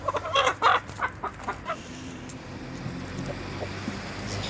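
A few close, sharp clucks from a rooster in quick succession, then quieter background noise with faint, low clucking.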